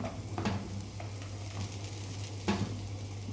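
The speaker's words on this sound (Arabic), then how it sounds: "قلبي شويه ماشي في الزيت بتاع البصل ده" Rice sizzles quietly in onion-flavoured frying oil for koshari, with a soft continuous fry and a few light scrapes of the stirring spoon against the pot; no one speaks.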